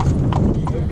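An Amish horse pulls a buggy through Lancaster County, Pennsylvania, its hooves clip-clopping in a quick, steady rhythm on the road, close by, under a continuous rumble of wheels and the noise of the ride.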